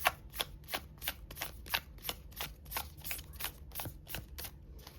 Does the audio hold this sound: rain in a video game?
no